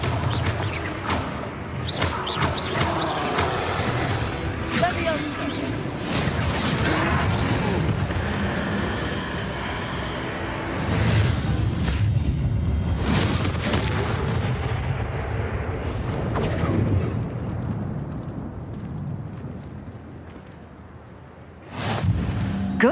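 Confringo fire spells blast repeatedly against a troll in Hogwarts Legacy, several loud crackling explosive bursts and booms landing amid continuous heavy low rumble from the battle.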